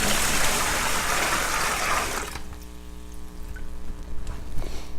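Water is dumped onto a seed starting soil brick in a loud gushing pour for about two seconds, then it settles into quieter soaking and trickling with faint tonal hum.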